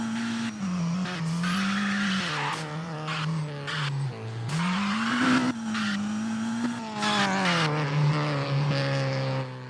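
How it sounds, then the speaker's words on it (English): A Mazda Miata engine in a Roblox racing game revs and drops repeatedly, with throttle blips and crackling releases over a continuous whining drone. "the throttle release sounds are from a Miata"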